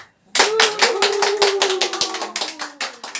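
Applause from an audience at a calligraphy and painting exhibition event, a sudden loud burst of close, crisp hand claps that keeps going, then thins into scattered claps near the end.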